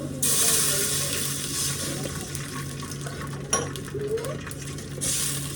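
Water runs and splashes steadily into a pan while making khaman, with a brief clatter midway and a low hum underneath.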